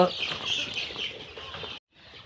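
Sonali breed chickens clucking in a poultry farm, a busy flock chattering continuously at close range with a voice speaking over the birds before a brief drop to silence.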